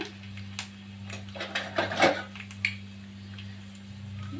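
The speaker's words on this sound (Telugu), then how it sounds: "ఇప్పుడైతే మనం దాల్చా కోసం తాలింపు అయితే పెట్టుకుంటున్నాం. ముందుగా అయితే ఎండుమిర్చి" Dried red chilies drop into hot oil for a dalcha tempering, making a brief crackling sizzle that swells and subsides over a steady hum. Light clinks of a utensil against the pan sound close by, and no one speaks.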